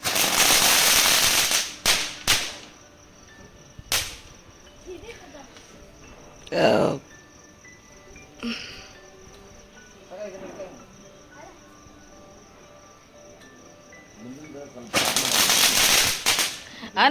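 Firecrackers set off at home for the Ganesha festival: loud, sharp bursts open and close the stretch, with single cracks in between and voices and crowd murmur underneath.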